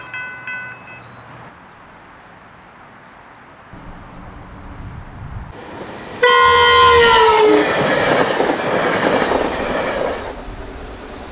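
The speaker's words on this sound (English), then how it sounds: "I mean, it is a train coming, so I guess I gotta move away." A train passes on a railroad track, starting with faint rumble and then a loud, sustained horn blast with rolling clatter and wheel noise close by; no speech.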